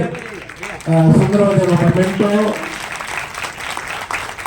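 Applause rises from the audience at a Gandhinagar award federation ceremony as a memento is presented. Someone speaks over the steady background clapping, which carries on after he stops.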